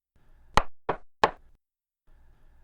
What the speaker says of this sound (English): Dad knocked on the door